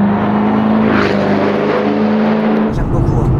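A Ford Mustang Shelby GT500 engine pulls under acceleration from inside the car, a loud, steady drone with rising harmonic tones that cuts off abruptly near the end into a lower rumble.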